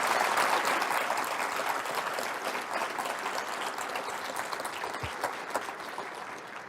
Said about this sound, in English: let's just give ourselves a strong round of applause for an incredible academic year